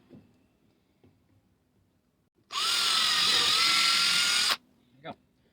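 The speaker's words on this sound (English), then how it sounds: "this plastic through both the bumpers to make some pilot holes" Power drill boring pilot holes through a plastic rear bumper on a Jeep JK stubby bumper build, one loud steady two-second whine with a rising pitch, framed by quiet taps and a short knock afterward.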